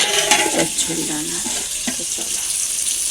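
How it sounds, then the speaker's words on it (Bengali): Eggplant sizzles steadily in a hot pan, with stirring scrapes and a soft clatter while a voice talks briefly in the background. "বেগুন ভাজা বসিয়েছি"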